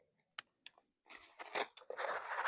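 Celery or lettuce is cut in a garden, a few crisp snips followed by crunchy tearing and rustling of leafy stalks, close and quiet, no talk.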